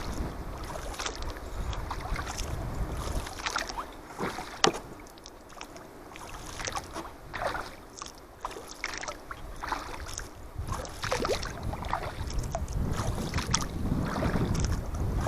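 Steady paddle strokes splash and swish through lake water as a fully loaded canoe glides along, with gusts of wind buffeting the microphone throughout.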